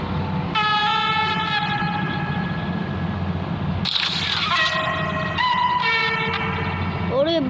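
A train in the video game Poppy Playtime 2 rumbles loudly and steadily while its horn blasts in long sustained tones, breaks off, then sounds again in several more blasts, with a voice talking over it.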